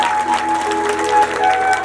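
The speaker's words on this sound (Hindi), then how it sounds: "जरा जोरदार तालियों से इनका धन्यवाद देंगे" Audience claps in thanks during a Devi Bhagwat religious discourse, a brief dense burst of applause with a steady tonal hum running through it.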